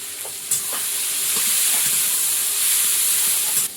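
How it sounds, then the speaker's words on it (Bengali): Spice paste of tomato, green chili, turmeric, cumin, coriander powder and salt frying with a splash of water in a pan, a loud continuous close sizzle with faint stirring scrapes underneath. "একটু ধনে গুঁড়ো একটু জল দিয়ে মশলাটা কষিয়ে নেব"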